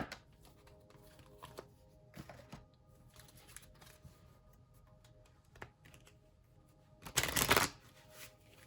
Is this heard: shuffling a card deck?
yes